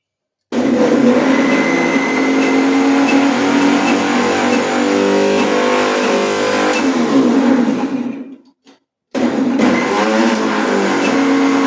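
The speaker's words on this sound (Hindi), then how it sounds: "जरा सी चटनी है अदरक की, इसको पीस लेते हैं" Mixer grinder grinding a small batch of ginger chutney, a loud steady motor whine for about eight seconds that cuts off, then a brief restart after a short silence.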